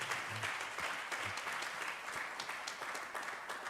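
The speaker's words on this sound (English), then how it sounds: "Y'all clap it up for that." Audience applause fills the room at a steady, dense level, with many hands clapping continuously and no voices rising above it.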